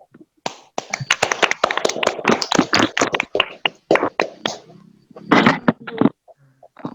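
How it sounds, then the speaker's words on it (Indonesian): A classroom group claps hands in a short burst of applause, sharp and close, fading out after several seconds with a few scattered final claps. "Tepuk tangan untuk kita semua"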